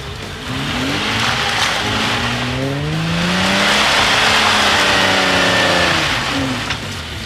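A family estate car driven off-road, its engine revving and rising and falling in pitch, loud and close, with tyres scrabbling and skidding over rough ground throughout.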